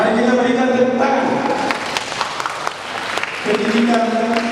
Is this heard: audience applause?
yes